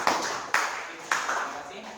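A few sharp hand claps ring out in a classroom during a teacher's lesson, three distinct slaps spaced about half a second apart, each with a short ringing tail.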